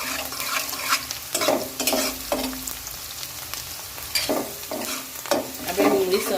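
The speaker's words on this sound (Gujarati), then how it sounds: "હવે આપણી ડુંગળી સરસ શેકાઈ જાય પછી આપણે નાખીશું ટામેટા" Onions sauté in an oil pan while a sprouted moong dry curry is being prepared; a steady frying sizzle carries repeated scraping stirs in bursts, close and moderately loud.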